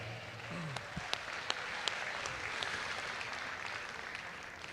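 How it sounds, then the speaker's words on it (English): Audience applause at a Kentucky State Fair sheep show ring, a broad steady patter of clapping with a few sharper claps, moderately distant and continuous throughout. "I think we need to give the sheep crew and the ring help a nice round of applause for putting on a good show."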